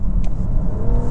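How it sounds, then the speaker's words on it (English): A BMW X5 xDrive50e plug-in hybrid SUV in sport mode with kickdown, its engine note a smooth, steady rumble and rising whir that stays close and continuous under hard acceleration. "very quick kick down, fast shifts, and a glorious smooth sound as we get moving and moving fast"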